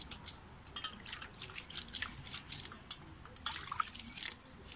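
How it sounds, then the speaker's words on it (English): Water from a rinse drips and trickles off a freshly cleaned white-wall tyre, a steady patter of small droplets close by and fairly quiet, with no talking. "Give it a bit of a rinse off."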